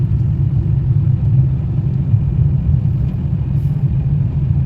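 A car engine idles and runs steadily during a beginner driving lesson, a constant low rumble close by with no break throughout; no gear change stands out clearly.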